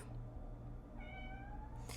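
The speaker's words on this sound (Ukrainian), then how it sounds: "У мене вже там кричить котик." A small cat meows in a home kitchen, a drawn-out plaintive call in the second half over steady household background hum.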